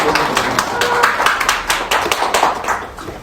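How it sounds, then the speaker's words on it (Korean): Applause for a National Assembly member at a disability rights and independent-living forum in Korea: dense, fairly loud clapping from a seated audience, steady for about three seconds. "우리 소병훈 국회의원님께 다시 한번 큰 박수 부탁드리겠습니다"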